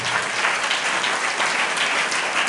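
A church congregation clapping during a Hindi sermon, dense, steady applause from many hands filling the room continuously throughout.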